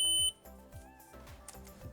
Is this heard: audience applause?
no